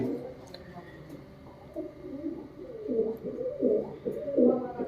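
Pigeons cooing in a loft, several close, soft, rolling coos rising and falling one after another, with faint background noise and a brief voice.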